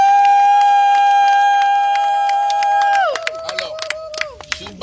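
A congregation at a baptism service acclaims the Lord: a long, sustained high-pitched cry holds steady, then slides downward and gives way to scattered claps and crowd noise.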